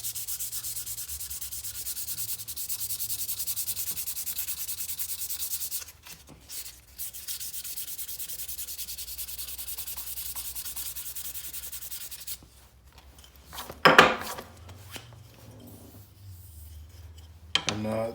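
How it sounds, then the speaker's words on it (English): A knife handle is sanded by hand with 500 grit sandpaper, soft steady rubbing strokes running for long stretches, close up and fairly quiet, broken by a few pauses and light knocks near the end. "I'm gonna sand this with some 500 now"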